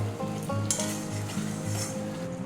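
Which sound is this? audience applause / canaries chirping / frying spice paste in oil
frying spice paste in oil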